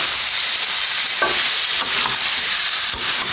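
Watermelon rind sizzles with spices in a hot pan for a fish curry, stirred with a few scraping strokes over a steady loud frying hiss.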